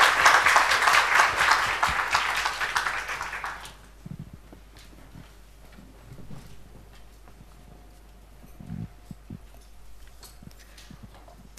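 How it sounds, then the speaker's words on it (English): Audience applause at a sustainable-investing forum welcoming speaker Paul Herman: a loud burst of clapping for about four seconds that stops abruptly, followed by quiet room noise with a few scattered thumps. "Please give a big applause to Mr."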